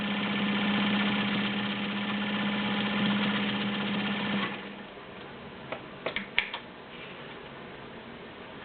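A vintage heavy-duty Dressmaker sewing machine stitching with a steady, close mechanical whir and rapid ticking for about four seconds, then stopping, followed by a few sharp clicks and taps.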